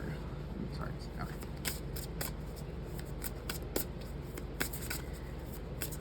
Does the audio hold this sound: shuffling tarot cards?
yes